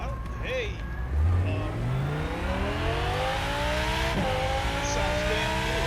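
A racing hypercar in the Rennsport video game revs hard, its engine pitch climbing steeply through gears in a smooth rising whine, with a brief tire squeal and steady engine drone after.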